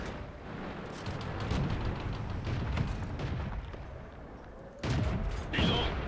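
Tank guns firing in World of Tanks, set among tier 2 light tanks such as the M2 and Type 89 I-Go Chi-Ro, with steady rumbling battle ambience and two sharp cannon blasts near the end.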